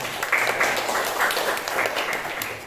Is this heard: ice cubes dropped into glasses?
no